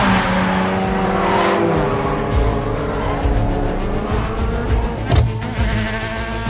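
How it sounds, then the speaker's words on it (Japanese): A runaway car speeds through the city streets of Shibuya toward Center Gai, its engine roaring loud and continuous with revving surges, a sharp burst near the end suggesting a tire squeal or crash. "暴走車両が現在渋谷センター街に向けて走行中です"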